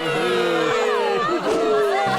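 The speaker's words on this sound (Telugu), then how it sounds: "చప్పట్లు." A cheering crowd of cartoon voices rises at an archery competition in a Honey Bunny children's cartoon, a busy, continuous swell of excited whoops and shouts with little pause.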